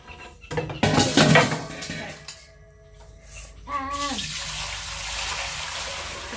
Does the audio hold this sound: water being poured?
yes